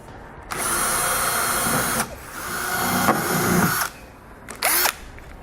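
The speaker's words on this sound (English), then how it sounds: "because they're plastic rivets, is we got to drill" A power drill whirs in several short bursts, drilling out plastic rivets on a 2016 BMW X5, spinning up and cutting out, with a brief final buzz; nearby and fairly loud, no talking.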